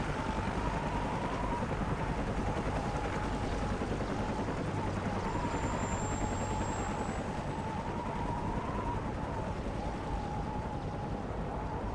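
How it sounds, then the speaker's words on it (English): A military helicopter in the video game Call of Duty: Modern Warfare Remastered drones steadily throughout, a dense, constant rotor and engine roar with a sustained mid-pitched whine and no pauses. "Take out that helicopter, it'll buy us some time."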